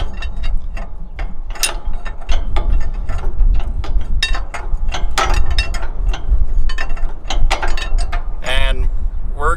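A 1.5-inch wrench turns a nut on a MacDon FD2 Series header, loud close metallic ratcheting clicks in quick bursts, with a voice talking over the work.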